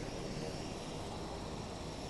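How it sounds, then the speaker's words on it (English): A helicopter circling around right after landing on a tarmac in southeast Louisiana, its engine and rotor giving a steady, moderately distant drone with no voices. "this helicopter's coming around right now that just landed"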